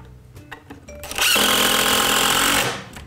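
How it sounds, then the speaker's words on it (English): A power driver drives a screw into wood while building a bulkhead, a few faint taps and then a loud, steady whirring burst of about a second and a half that cuts off abruptly. "I'm going to just get this screw in first."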